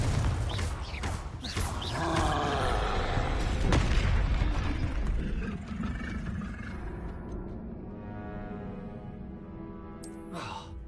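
A fiery Confringo spell blast in Hogwarts Legacy, a loud rumbling boom with crackling debris that fades over several seconds into quieter game effects and a brief tonal chime.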